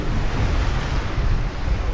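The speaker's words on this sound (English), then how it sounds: "It's very windy today" Strong wind buffets the microphone on a rough coast while heavy sea waves surge and wash continuously. The roar is loud, close and unbroken, with no voices.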